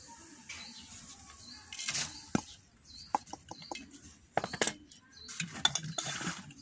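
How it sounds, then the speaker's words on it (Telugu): Carrot biscuit powder is tapped and shaken through a sieve, giving close, irregular clicks and light scraping taps that come in scattered bursts, with no talking. "ఇప్పుడు ఈ పౌడర్ని జల్లించుకుందాం."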